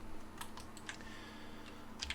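Keys clatter on a computer keyboard as commands are typed into AutoCAD, a few light separated taps ending in a firmer pair of strokes, close and fairly quiet over a steady low hum.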